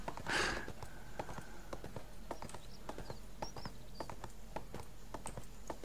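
A horse in the ArcheAge video game moves with a quick, uneven run of light hoof-like clops under a faint game background, with a brief soft burst near the start.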